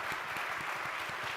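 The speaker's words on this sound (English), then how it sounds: "So can we give a round of applause?" An audience at a real estate talk applauds, a steady patter of many hands clapping at moderate volume that holds throughout without speech.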